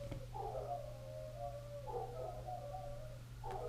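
Dogs left alone at home howl in long, wavering, mournful phrases, three drawn-out cries in a row with a fourth starting, over a steady low electrical hum in a quiet room.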